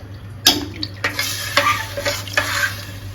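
A spoon scrapes around a cooking pot of rice and water in several quick strokes over a soft sizzle, close and clear, with no talking.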